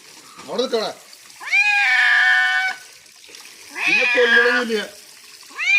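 A cat meows loudly and repeatedly while being bathed in a wooden box, giving long drawn-out protesting cries separated by short pauses, with faint splashing water in the background.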